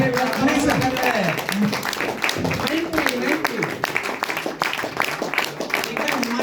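Applause rises to welcome a leader onto the stage at a company celebration event, clapping heard under an announcer's loud, energetic voice that runs throughout.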